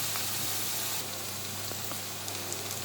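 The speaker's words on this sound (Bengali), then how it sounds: "অবশ্য পেঁয়াজ ভাজা ভাজার সময় এত নাড়া লাগে না" Onions frying in a pan for a Rohu fish curry with potatoes, a steady soft sizzle with scattered faint crackles, quiet and continuous without talk.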